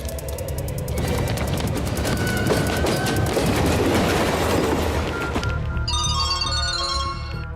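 A local train near Chandanagar station in an Indian film scene gives a loud, continuous rumbling clatter with rapid rhythmic knocking, then shifts to sustained tonal ringing near the end.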